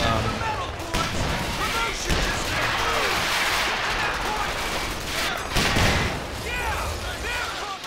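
Dense, continuous battle gunfire from the real-time strategy game Company of Heroes 2, with suppressing fire, explosions and heavy weapons crackling loud and steady throughout, with voices talking over the combat.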